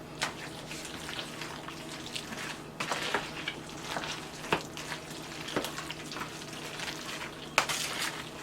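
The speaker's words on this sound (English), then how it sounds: "So I'm going to add some more sour cream to that and then mix." Sour cream being mixed into a spinach lasagna filling: wet, squelching stirring with sharp spoon clinks against the bowl at a steady, uneven rhythm, close and fairly quiet, with no talking.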